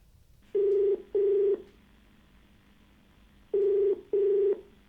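Outgoing call ringing from a television studio to a viewer, a two-part electronic ringback tone repeated twice with a long pause between, clean and steady, no voices.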